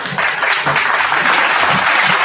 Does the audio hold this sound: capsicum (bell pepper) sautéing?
no